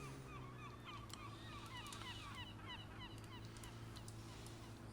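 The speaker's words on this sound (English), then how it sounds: "We got seagulls." Seagulls in the video game Farming Simulator 17 give repeated short calls over a steady low engine-like drone, the cries fairly faint and scattered across several seconds.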